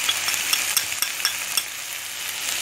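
Chicken and vegetables being stirred with salt, chili and black pepper powder for restaurant-style chicken shashlik, a steady sizzle with repeated light scraping clicks of the spoon against the pan, close and continuous, no talking.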